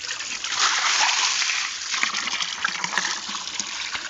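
Water sloshes and splashes around inside a shaken 5-litre can, in uneven bursts, close and moderately loud.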